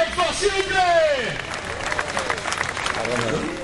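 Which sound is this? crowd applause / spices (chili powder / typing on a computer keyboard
crowd applause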